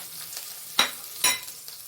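Cumin, green chili and grated carrot fry in ghee with a soft constant sizzle, broken by two sharp scraping stir strokes close by.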